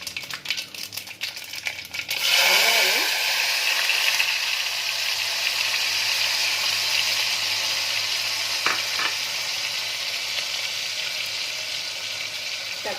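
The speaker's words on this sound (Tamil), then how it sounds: "இது மாதிரி கடுகு பொரியிற சவுண்டு கேட்கணும்." Mustard seeds crackle and sizzle in hot oil in a clay pot, a dense popping fry that bursts up loudly after a quieter start and keeps spitting steadily up close, with a few sharper pops along the way.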